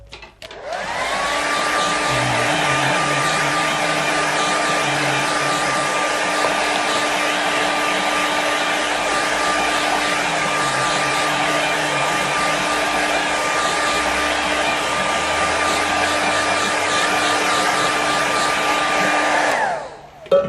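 A hair dryer blows steadily to dry a watercolour painting, a loud, even whirring roar with a constant whine that starts abruptly and cuts off near the end.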